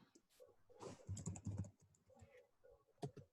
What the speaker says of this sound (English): Type all of your answers in the chat.